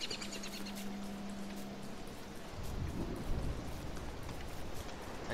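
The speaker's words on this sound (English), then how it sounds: "Oh, rain! There's rain," Steady rain from the video game Don't Starve, a broadband hiss with a low rumble swelling in partway through like distant thunder, alone with no voices.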